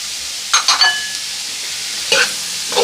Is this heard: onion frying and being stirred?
yes